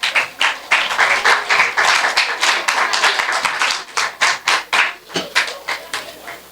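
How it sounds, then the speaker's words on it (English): A crowd at a primary schools' football opening ceremony applauds to welcome the football association president, with loud, close clapping in quick uneven bursts that builds and then tapers, and no talk over it. "Please welcome him with a round of applause."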